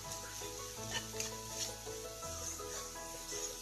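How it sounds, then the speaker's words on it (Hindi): A spoonful of maida roasts in a pan for a white sauce, soft sizzling and scraping of a spoon stirring the flour, close and steady with a low hum underneath and no talking. "मैदे को हम भून लेंगे।"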